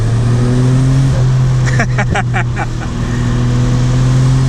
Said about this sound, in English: I roll the windows down just so you can hear a little bit more of that turbo noise.